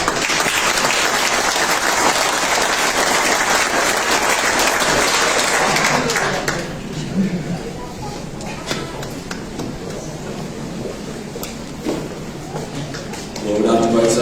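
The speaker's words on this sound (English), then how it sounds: "Round of applause to Zara." An audience at a sporting Hall of Fame ceremony claps loudly for a gymnastics inductee for several seconds, then the clapping fades to scattered claps and a voice speaks as the sound resumes.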